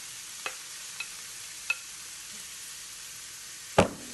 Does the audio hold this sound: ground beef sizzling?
yes